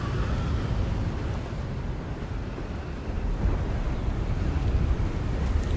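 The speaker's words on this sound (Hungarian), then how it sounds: "Fúj a szél elég rendesen." Strong wind gusting steadily across an outdoor area in the video game Hogwarts Legacy, a continuous broadband roar with low rumble that swells slightly in the second half, with no voices.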